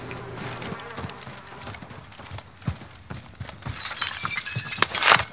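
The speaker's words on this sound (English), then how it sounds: "And broken glass." Glass shattering in the video game Call of Duty Modern Warfare, a sharp crash of breaking glass near the end amid clattering gunfire-like impacts and game noise.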